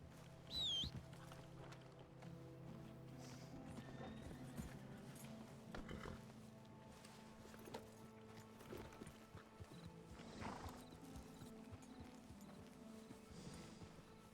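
Horse in the RedM Red Dead video game, hooves clip-clopping at a walking pace, a steady run of close hoofbeats with a short whinny near the start, quiet overall with no talk.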